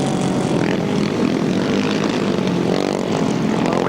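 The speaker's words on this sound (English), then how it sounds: "certainly the engine sounds most unhappy" A grasstrack racing motorcycle engine at a 1994 meeting runs rough, a steady loud droning roar that fills the whole stretch without pause or talking.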